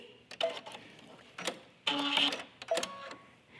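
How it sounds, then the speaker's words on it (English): A sewing machine run by foot pedal stitches a button onto a front-button skirt, in short mechanical bursts of whirring and clicking separated by brief pauses. "you can go ahead and use the foot pedal to finish sewing on the button"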